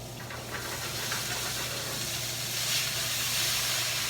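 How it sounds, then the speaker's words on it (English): Andouille sausage frying in grapeseed oil in a hot, seasoned pan gives a steady, loud, close sizzle and hiss that runs unbroken, with no talking over it. "I think we can put the sausage in. Our pan's nice and hot."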